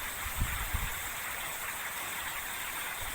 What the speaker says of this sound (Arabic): مش عارفة سامعين صوت الشتا بقى ولا ايه